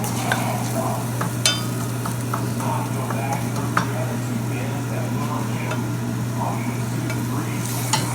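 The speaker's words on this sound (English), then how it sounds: "So fry it for a few minutes." Shallots, garlic and ginger fry in a pan for a fried-fish-with-tamarind dish, a continuous sizzle with occasional spatula scrapes and light clicks over a steady low hum.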